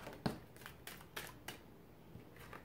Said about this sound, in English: One more shuffle, I think.